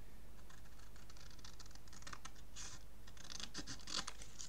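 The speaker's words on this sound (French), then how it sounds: "Je viens prendre mes ciseaux, je coupe mes deux triangles qui se sont formés." Scissors snipping through thin cardboard to cut out two triangles, a quiet close series of short crisp cuts and scratchy rustles, with no talking.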